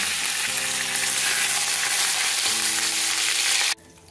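Steady, loud sizzle of black peppercorns and curry leaves frying in hot oil for a tarka, crackling continuously before cutting off abruptly near the end.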